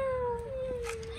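A pet cat meows close by in a house, giving one clear drawn-out call that slides slowly downward in pitch, with faint background noise.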